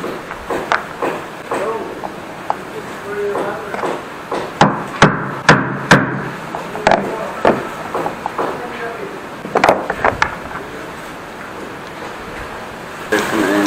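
A hammer strikes repeatedly while a woodworker makes an Irish grind jig in a workshop, sharp close knocks in irregular bursts, with some background noise throughout.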